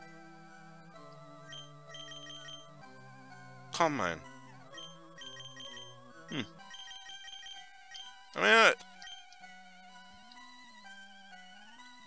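Bright, ringtone-like electronic chiptune melody from the Pokemon Advanced Adventure video game plays steadily in stacked tones, while someone talks over it and two short loud bursts break in.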